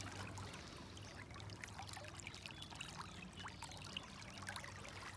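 Fast-moving water in Cherry Creek rushes and splashes continuously, a dense steady outdoor stream sound with no voices.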